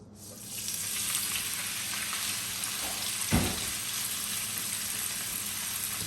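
Small chapila fish, from the fridge, fry in hot oil in a kadai with a steady broadband sizzle throughout, and a brief louder burst of spattering midway through the clip.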